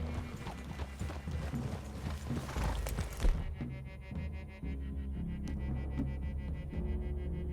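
Horses plod along at a walking pace in Red Dead Redemption 2, with steady close clip-clop hoofbeats, creaking tack and jingling gear, and a brief whinny partway through.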